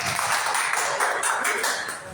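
A church congregation claps along at a celebration worship service, a dense, steady wash of many hands close by with no clear gaps.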